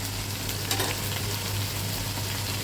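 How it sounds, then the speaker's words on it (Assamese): Ginger garlic paste frying in a pan for a soybean recipe, a steady close sizzle with faint stirring scrapes and no speech. "এতিয়া আদা নহৰু পেষ্টখিনি দি দিলোঁ ইয়াতে।"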